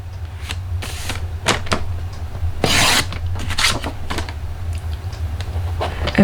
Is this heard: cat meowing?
no